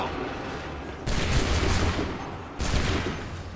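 Musket volleys crack out in Assassin's Creed 3, two loud broadband blasts of massed gunfire a second and a half apart, each leaving a rumbling, crackling tail with no talk over it.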